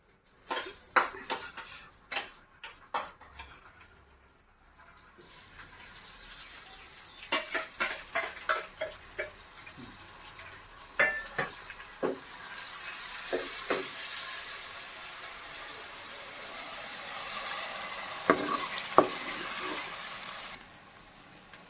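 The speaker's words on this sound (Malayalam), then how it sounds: "ആദ്യം നമ്മൾ ഇഞ്ചി വെളുത്തുള്ളി പേസ്റ്റ് ഇടാൻ പോവാണ്" Ginger garlic paste fries in oil left over from frying chicken for a chicken curry, a soft sizzle and hiss beneath repeated clinks and scrapes of a spoon stirring against a pan.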